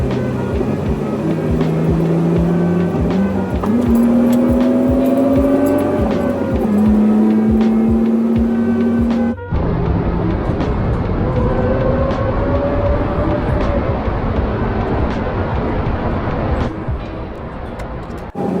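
A BMW E36 drives along an open road, its engine loud and steady throughout with rising and falling revs through gear changes, plus constant road and tire roar close by.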